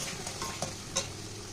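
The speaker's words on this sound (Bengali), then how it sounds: "এখানে দেবো একটু রেড চিলি পাউডার। ভালো করে এটাও মশলার সঙ্গে কষিয়ে নেব।" Red chili powder cooks into a spice paste in a pan, a faint low sizzle with a couple of soft stirring scrapes, brief and quiet.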